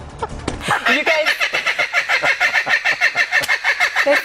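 Chickens squawk and cluck loudly in a news studio, a rapid continuous run of harsh calls with a rooster-like crowing quality, close and dominating the scene.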